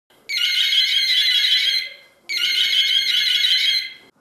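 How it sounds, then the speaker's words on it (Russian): Two long, loud fire alarm blasts in a hospital CT scan room, each about one and a half seconds, separated by a short pause, with a shrill tone. "В кабинете компьютерной томографии возгорания сработала пожарная сигнализация."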